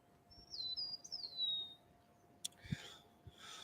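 Grackles chirp in a few sharp, rising whistled calls, followed by brief scratchy chatter and a couple of soft knocks in a quiet outdoor setting.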